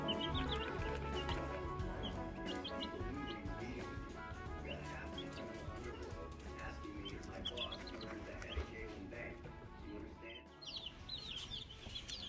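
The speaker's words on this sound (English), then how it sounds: "So here are the chicks again before we get out." Newly hatched chicks peep and chirp inside their brooder, a dense continuous chorus of high, overlapping calls close to the microphone, over a steady background hum.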